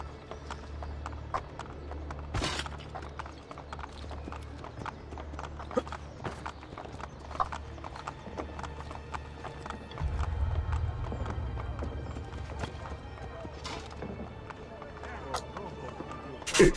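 Galloping horse hooves in the Assassin's Creed Brotherhood video game give a rhythmic run of clip-clop beats under game sounds and a low rumble, with a voice talking over part of it.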